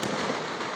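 Sample fireworks by the Paramekkavu Devaswom during the Pooram festival in Kerala: a dense, continuous barrage of crackling bursts that fills the whole clip at steady volume, with no voices.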